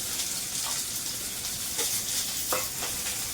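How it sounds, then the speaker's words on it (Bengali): Onion frying in hot oil in a kadai over low heat: a dense, continuous sizzle with faint scraping from stirring, close and steady, no voices. "পেঁয়াজটাকে কড়াইয়ে দিয়ে দিলাম তেলের মধ্যে দিয়ে দিলাম পেঁয়াজটা"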